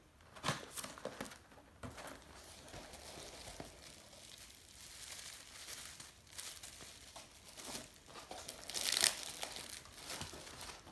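Bo shuriken package being opened, with soft crinkling and rustling of packaging material, faint and close, in irregular bursts and a sharper crackle near the end.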